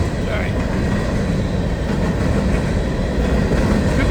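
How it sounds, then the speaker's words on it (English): A freight rock train rolls past on the FEC line, its steady broadband rumble loud and close throughout with faint clickety-clack from the wheels, and some voices under the noise. "The rock train."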